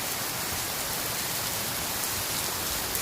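Steady rain falls outdoors around a house with trees, a dense even hiss of drops on surfaces, continuous and moderately distant, with no voices.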